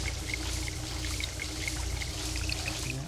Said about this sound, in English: even though the apartment is supposed to be empty and abandoned, there's that sound of running water